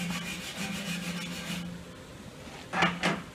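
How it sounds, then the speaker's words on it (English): A wire brush scrubs bare steel ahead of a ground clamp being set for a plasma cutter, a rapid rhythmic rasping in short strokes that stops, then returns with two brief louder scrapes. "before you set your ground clamp, you're gonna want to clear it off with a wire brush"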